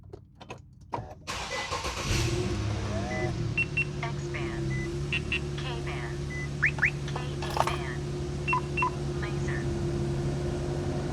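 Idling Infiniti G37 exhaust fitted with Fast Intentions resonated high-flow cats, a steady low engine drone starting after a few seconds of handling noise, with brief clicks and beeps over it and some talk nearby.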